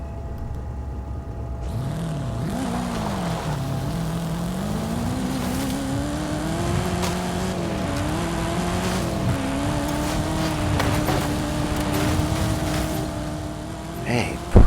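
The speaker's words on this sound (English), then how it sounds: "the Camaro tends to spin its wheels off-road" A Chevrolet Camaro engine in a racing video game drones continuously off-road, its pitch swelling and wavering with throttle and wheelspin, while a person speaks over it.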